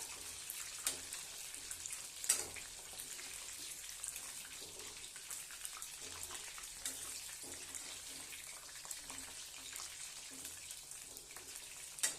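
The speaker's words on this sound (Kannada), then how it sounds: "ಚೆನ್ನಾಗಿ ಫ್ರೈ ಮಾಡ್ಬೇಕ್ರಿ ನೋಡ್ರಿ ಫ್ರೈ ಆಗ್ತಿದೆ" Soya manchurian pieces deep-frying in hot oil give a steady, close crackling sizzle for the whole stretch, dotted with sharp pops and spits, with no talking over it.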